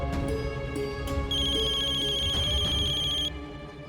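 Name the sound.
telephone ringing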